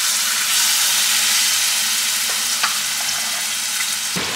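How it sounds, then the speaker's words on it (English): Meat frying in hot oil in a home kitchen, a steady loud sizzle and crackle with a few sharp pops and a clatter near the end, with no talking. "so I'm gonna fry this up."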